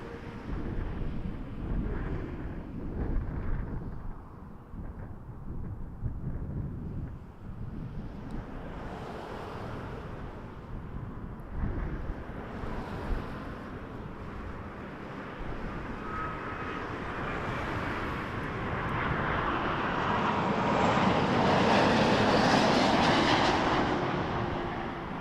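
Jet airliner coming in to land at Toronto Pearson Airport in gusty crosswind, a broad steady roar of engines and airflow that swells louder toward the end as the aircraft passes close.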